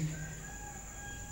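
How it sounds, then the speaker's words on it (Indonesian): A chicken or rooster calls from behind a house in Tangerang, a steady, sustained crow or cluck that sounds distant yet clear over a quiet background. "Kalau ini baru ayam."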